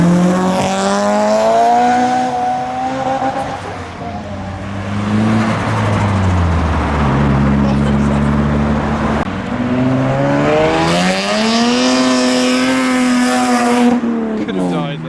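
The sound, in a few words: tuner car revving while arriving at a car meet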